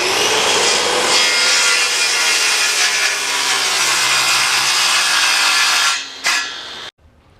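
Wood cut by saw for house framing: a loud, continuous close rasping cut with steady strokes that runs several seconds, then stops abruptly with a brief final scrape and silence.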